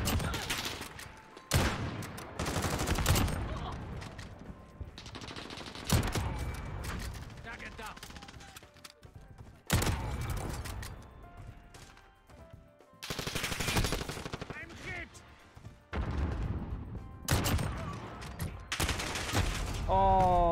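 Loud bursts of automatic and rifle gunfire from Modern Warfare multiplayer sniping matches, repeated volleys every few seconds with short gaps, while players talk over the action.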